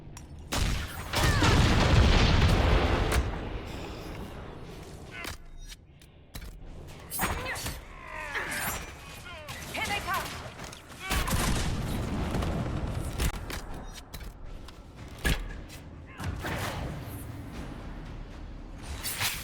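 Primed Gatlock explosive charges in Dragon Age: Inquisition go off in several heavy booms and crackling blasts with debris and mechanical clatter, loud bursts separated by quieter gaps.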